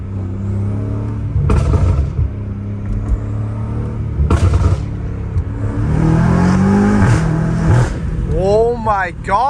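Loud exhaust from a BMW M5 Competition fitted with downpipes, heard in mountainous terrain: sharp revving bursts, deep rumbling, and a rising acceleration whine near the end, with people talking and exclaiming over it.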